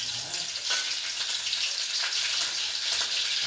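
Green chillies fry in hot oil for upma, a continuous close crackling sizzle with a bright hissy wash that holds steady throughout.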